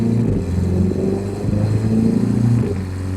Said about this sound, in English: I can already tell you the DSG pops, if that's your thing, are definitely going to be louder.